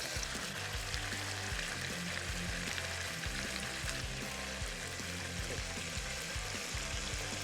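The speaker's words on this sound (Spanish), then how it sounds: "este es el momento donde hay que sellarla muy bien y fundir muy bien la grasa" Beef searing in hot oil as the fat renders, a dense steady sizzle and crackle in a pan, loud and continuous throughout with no talking.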